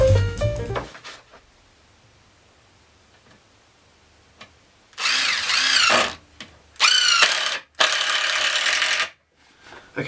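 A power tool works old wooden bed posts in a workshop: faint ticking at first, then three loud whining bursts of a few seconds each, separated by short pauses.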